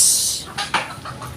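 A few short clucks from chickens, loudest near the middle, over a steady hiss of background noise.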